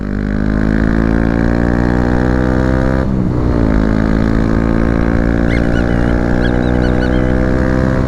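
A car engine roars loudly through a newly fitted exhaust line, holding a steady throaty drone with a brief dip and change in pitch partway through, close and dominant with no talking.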